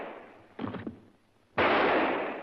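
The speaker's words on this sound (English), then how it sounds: "Those were gunshots." Gunshots inside a house: two loud sharp bursts, a ragged cluster of bangs followed a second later by a heavier, sustained blast that fades slowly, heard from close by with no talking.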